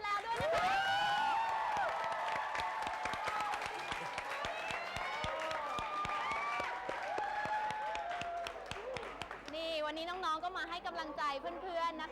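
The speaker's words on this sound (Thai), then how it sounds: "ต้องขอเสียงปรบมือต้อนรับน้องๆนักล่าฝันทั้ง 7 คนด้วยค่ะ" Thai television studio audience applauding and cheering to welcome seven contestants on a reality talent show, dense sustained clapping with whoops and crowd noise throughout, a voice speaking over it near the end.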